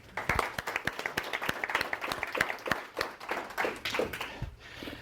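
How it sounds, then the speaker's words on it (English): Small group at a business gathering welcoming guests with applause: distinct, fairly sparse hand claps in an irregular rhythm, close and moderately loud, tapering off near the end. "let's give them a welcome applause."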